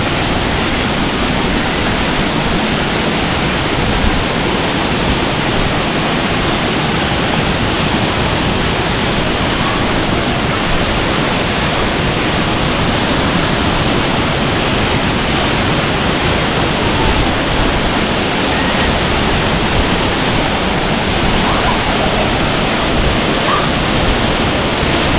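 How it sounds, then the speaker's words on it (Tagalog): Middle Falls at Ng Tung Chai pours continuously, a dense, steady roar of falling water that stays loud and even throughout with no pauses. "We're here in Middle Falls."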